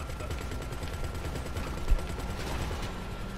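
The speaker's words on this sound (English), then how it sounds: "Stop shooting." Gunfire in GTA 5 Online during a casino heist, a dense continuous barrage with one sharper burst near the middle, steady and fairly loud with no talk.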